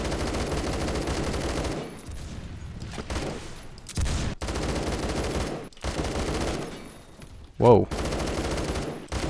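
Burst fire from an AK12 rifle fitted with a BARS barrel in the Roblox game Phantom Forces: several rapid, dense volleys separated by short pauses, loud and close, with one brief exclamation from a voice.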